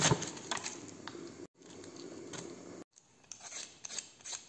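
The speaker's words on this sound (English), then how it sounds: "Mandolin is the easiest way to slice fennel very thin." Fennel sliced thinly on a mandoline, a series of crisp scraping and crunching strokes in an uneven rhythm, close and moderately quiet, broken by two brief gaps of silence, with no talking.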